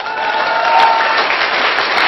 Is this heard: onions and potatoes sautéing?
no